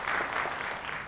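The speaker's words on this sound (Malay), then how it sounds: "Apa kata kita berikan tepukan yang paling gemuruh kepada semua pihak yang terlibat" A short burst of steady applause from an audience at a Kuala Lumpur zero-waste plan event, a dense even patter of many hands.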